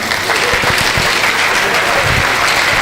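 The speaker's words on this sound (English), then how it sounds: "A resounding round of applause for that professorial lecture by Professor of Community Dentistry" A resounding round of audience applause after a professorial lecture on community dentistry, loud and dense clapping from a large crowd in a hall, sustained at an even level throughout.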